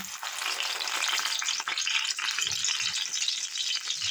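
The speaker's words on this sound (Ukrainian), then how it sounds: "Ось так беремо хлібчик, мочаємо в молочко і смажимо." Loud, steady sizzling of milk-soaked bread frying in a hot pan, with occasional crackles and light stirring sounds, close up and continuous.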